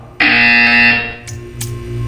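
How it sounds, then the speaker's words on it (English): Buzzer in the video game Portal 2, a loud harsh electronic tone that sounds at once, holds for about a second, then fades, followed by two brief clicks. "You will hear a buzzer."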